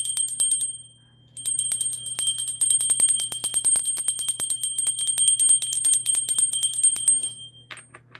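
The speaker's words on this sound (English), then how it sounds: "So let's go ahead and ring the bell." A small handheld bell rung continuously and rapidly for several seconds to clear energy, bright sustained ringing with a brief pause near the start, close and loud with no talking.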